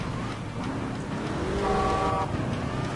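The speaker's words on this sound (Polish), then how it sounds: "Co kurde trąbisz?" A car horn in the Crash Time 5 racing game sounds in one sustained honk over steady engine and road noise.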